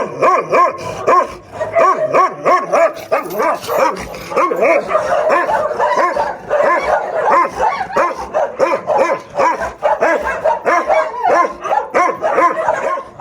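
A caged dog barks loudly and nonstop in quick repeated bursts at close range, with yips and whimpers mixed in and no other sounds breaking through.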